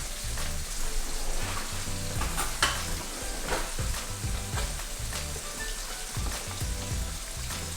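Fish sizzles steadily in a frying pan, a dense, close crackle with occasional stirring scrapes and no voices over it.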